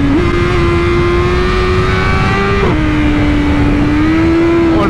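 A 212-horsepower motorcycle engine accelerating, one loud, close, steady roar whose pitch climbs slightly, dips briefly at a gear shift and then holds high again.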